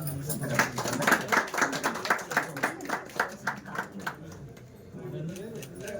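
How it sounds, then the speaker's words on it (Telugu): An audience claps together at a local gathering in Telangana, a run of regular, fairly loud bursts of hand claps that thin out and fade toward the end, with some talk around it. "అందరూ చప్పట్లు కొట్టండి"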